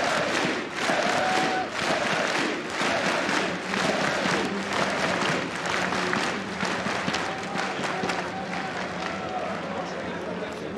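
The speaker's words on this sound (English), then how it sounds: "look at that, the whole crowd is a whole standing ovation." An esports arena crowd at a CS:GO match gives a standing ovation, with loud sustained cheering and rhythmic clapping pulsing throughout, while a commentator's voice runs underneath.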